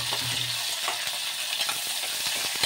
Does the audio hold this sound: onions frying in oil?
yes